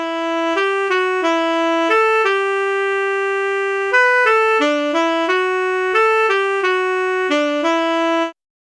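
Tenor saxophone sound from the free DSK Saxophones plugin carries a smooth, steady melody of held and stepping notes, alone and fairly loud, ending abruptly after the phrase.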